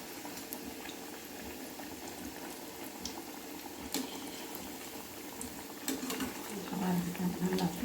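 Cabbage pakoda fritters deep-frying in hot oil, giving a steady bubbling sizzle that holds through the whole clip and swells slightly toward the end, with faint kitchen clatter and a voice in the background.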